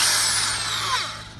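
A power drill spins a homemade tool made from a bolt and nut, used while repairing a washing machine transmission coupler; a steady, loud high-pitched whir that slowly tapers off toward the end.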